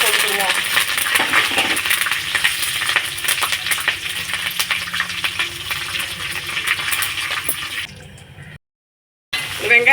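Cumin, dried red chillies and curry leaves sizzle in a hot pan with a close, bright crackling hiss and some stirring clinks, fading before a brief silence and resuming at the end.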